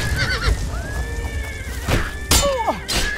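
Horse neighing in the video game Oblivion, several sharp whinnies with sliding pitch over thuds and hoof-like knocks, loud and close, amid a scuffle with no voices.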